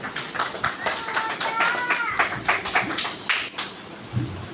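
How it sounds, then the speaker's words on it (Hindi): An audience welcomes a speaker onto a stage with dense, lively applause, strong at first and then thinning toward the end, with a faint voice briefly audible within the clapping. "आपकी भरपूर तालियों में जनाब शराफत मुगल साहब।"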